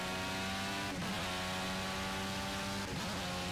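Dallara DW12 IndyCar engine in the Project Cars racing game at Road America, a loud sustained high-revving harmonic whine with two brief dips as gears shift, heard alone.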